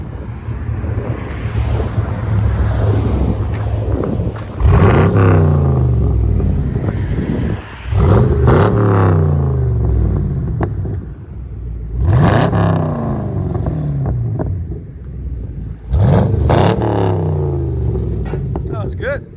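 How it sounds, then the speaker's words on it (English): Revving 6.2L V8 of a 2018 Chevy Camaro SS fitted with a Flowmaster Outlaw exhaust, loud and close, with four sharp throttle blips rising over a steady idle rumble and wind buffeting. "2018 Chevy Camaro SS FLOWMASTER Outlaw. That sounds so good."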